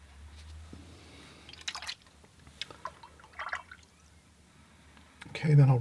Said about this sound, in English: Okay, then I'll rinse off the brush.